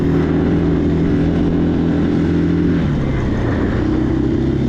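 A 2023 KTM 500 EXC-F four-stroke dirt bike fitted with an aftermarket ECU and a Graves exhaust is ridden, its engine droning loudly and steadily up close, with a change in pitch partway through as the throttle shifts.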